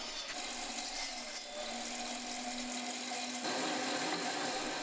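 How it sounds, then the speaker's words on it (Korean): A pedal-powered, non-electric circular saw bites into a wooden board, giving a continuous rasping, whining cut with a steady pitched hum that shifts slightly as the blade loads up, close and fairly loud. "이 장치는 비전력 페달 원형 톱으로 운동을 하듯 자전거 페달을 돌리기만 해도 전기톱과 다름없는 성능을 자랑합니다"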